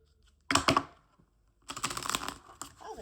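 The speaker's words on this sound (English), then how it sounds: "was a good shuffle." Deck of playing cards shuffled up close, two quick bursts of crisp riffling clicks and flutters separated by a short pause.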